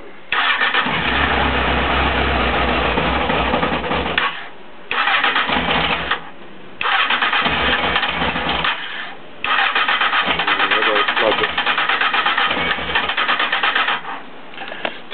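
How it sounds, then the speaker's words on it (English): Honda CBF600 motorcycle with about 11,000 miles, cold-started with choke: four loud, sustained cranking and firing bursts separated by brief pauses, close-up and uneven, without settling into a clean idle. "Anyway, cold start, here we go."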